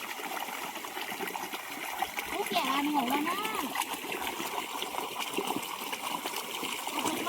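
Water gushes and splashes from a tap while a vessel is filled, a steady close stream with people talking over it throughout.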